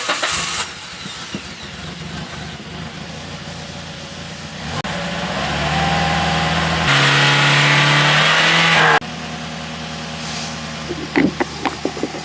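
A 2009 Toyota Matrix engine cranks, catches and is revved after a Seafoam treatment. Its close, steady running note climbs in pitch through a sustained rev before dropping back, with no voices over it.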